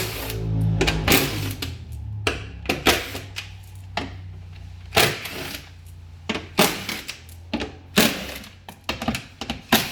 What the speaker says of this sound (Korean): 여기 지금 유리기업 판넬에 있는 이 볼트들을 빼고